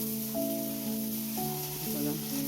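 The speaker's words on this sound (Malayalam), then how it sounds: "എണ്ണ ചൂടായി അതിലേക്ക് കടുകിട്ട് അതിന് ശേഷം ഞാൻ ഇതൊന്ന് താളിച്ച് അതിന് ശേഷം അതിലേക്ക് സവാള ഇട്ട് കൊടുക്കുകയാണ് ചെയ്യുന്നത്" Onions tossed into hot oil with mustard seeds give a steady, close sizzle that runs the whole time, with sustained melodic tones layered over it.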